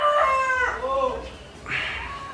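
A rooster crows nearby in a gym setting, one loud drawn-out cock-a-doodle-doo with rising and falling tones, followed by a shorter second call.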